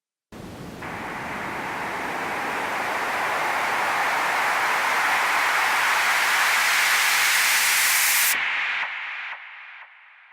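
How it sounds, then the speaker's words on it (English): Synthesized white noise transition riser for EDM, processed with delay and distortion, swelling steadily louder over about eight seconds, then cutting off and trailing away in stepped delay echoes that fade to silence. "That's kind of the bare bones beginning of making your own white noise transitional sounds."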